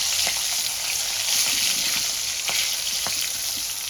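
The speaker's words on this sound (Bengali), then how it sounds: "এবার এই তেলে আমি কালো জিরে আর কাঁচা লঙ্কা ফোড়নে দিয়ে দেবো।" Black cumin seeds and split green chilies frying in hot oil make a bright, continuous crackling sizzle with a few sharp pops and light stirring knocks, close and unvoiced.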